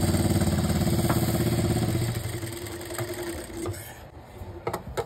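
A sewing machine stitches a palazzo pant, a fast close rattling hum for about two seconds, then slows into shorter, quieter bursts and light clicks.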